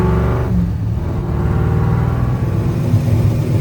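A custom Trooper car drives along with a steady, loud engine rumble and road noise, holding a constant drone throughout with no talking.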